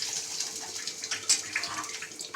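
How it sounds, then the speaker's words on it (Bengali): Water pours and splashes into a cooking pot in a home kitchen, a faint, uneven trickling and gurgling stream lasting a couple of seconds with no talk. "জল একদম ঢেলে দিলাম।"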